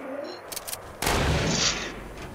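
Gunfire in the video game Fortnite: a couple of quick shots followed by one loud, booming blast that lingers and fades, alone without talk.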